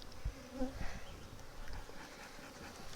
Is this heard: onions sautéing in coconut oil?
no